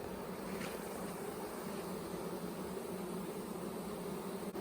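Honeybees swarm around an open hive during an inspection, a continuous dense buzzing hum from many insects, close and steady throughout with no talking.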